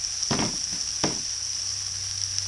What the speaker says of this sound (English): That's what we want to hear, a nice sizzle